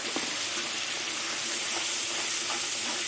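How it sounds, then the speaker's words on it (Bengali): Spices with poppy seed and melon seed paste fry in oil, a steady close sizzle and hiss with occasional stirring scrapes throughout. "আবার কিছুক্ষণ মগজদানা দিয়ে কষিয়ে নেব পোস্ত দিয়ে।"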